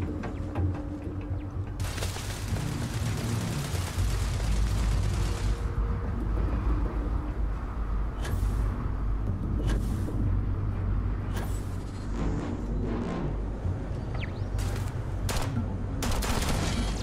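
Turret gunfire in the sci-fi game Starfield crackles in loud bursts and rapid volleys, with heavy booming impacts and a low rumble running underneath.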